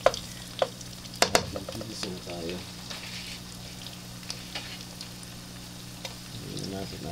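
Pork frying in plenty of rendered oil until golden brown for Bicol Express, a steady close sizzle with sharp crackles and spatters, louder pops early on, with occasional utensil clinks.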